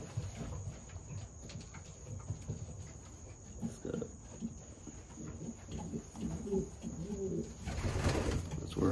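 Soft cooing of racing pigeons in a loft, low murmuring calls scattered over a steady insect-like hiss, fairly quiet and with no talking.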